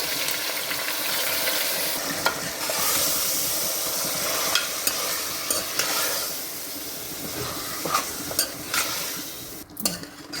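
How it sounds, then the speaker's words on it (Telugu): Marinated chicken tipped into hot fried masala sizzles steadily at close range while a utensil stirs and scrapes the pan, with occasional sharp clinks and pops and no talking. "ఇప్పుడు నేను మ్యారినేట్ చేసి పెట్టుకున్న చికెన్ని దీంట్లో వేసేస్తున్నాను"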